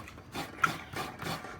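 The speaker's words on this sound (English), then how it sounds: "it's always better to get a real coconut, fresh coconut, and then you try to scrape it off this way" Fresh coconut flesh scraped by hand on a grater, producing four rhythmic rasping strokes that are close and moderately loud, with brief pauses between each pass.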